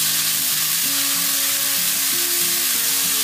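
Leek and onion sautéing in a pan give a steady, even sizzle with soft stirring, close and continuous throughout.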